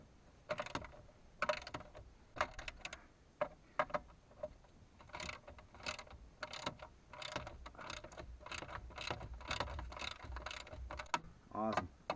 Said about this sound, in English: I do got a wrench in here somewhere.